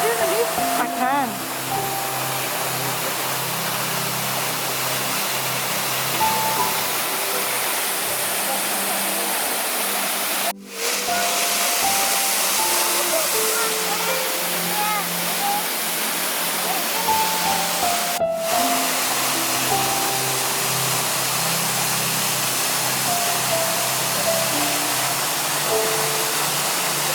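A campsite waterfall pours in a steady, close roar of rushing water that fills the whole clip, with only brief dips in its constant wash.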